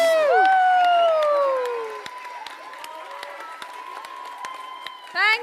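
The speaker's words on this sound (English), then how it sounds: "Give a huge round of applause to Mr. Papan." At a school annual day celebration, a crowd bursts into applause and cheering as a live musical performance fades out. The clapping is loud and continuous, with scattered sharp claps toward the end.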